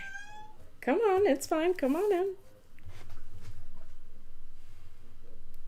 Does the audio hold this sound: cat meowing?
yes